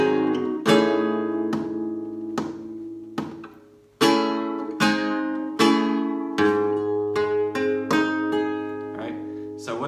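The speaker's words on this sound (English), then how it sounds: "a very simple phrase in soleá will sound like this." Flamenco guitar playing a simple soleá phrase, a series of strummed and plucked chords with ringing sustain, struck in an uneven rhythmic pattern with a brief pause near the middle, close and alone.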